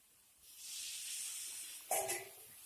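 Water hits a hot pan of frying spice paste of red chilli powder, turmeric, cumin and coriander for a Bengali boal fish curry, giving a sustained sizzling hiss and then a sudden louder spitting burst.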